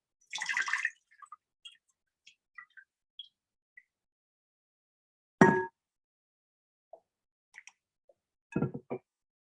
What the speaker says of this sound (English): And pour water over both of your open palms.